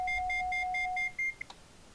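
An annunciator alarm panel test in an X-Plane 11 DR401 aircraft sounds as a rapid series of about ten short electronic beeps, steady then stopping, followed by a faint click.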